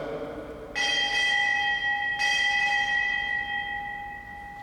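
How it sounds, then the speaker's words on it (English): A ship's bell rings at a US Navy retirement ceremony, with two clear, loud strikes that ring on as long, sustained tones and no talk over them. "Strike 4 bells."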